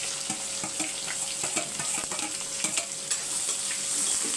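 Onions frying in a pan with curry leaves, stirred with a utensil: a steady, fairly loud sizzle with irregular scraping clicks throughout, no voices.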